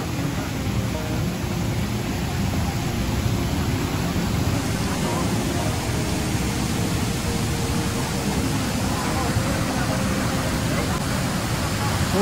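A deep river flows with a broad, steady roar of rushing water that stays constant throughout, loud and close, with no voices heard.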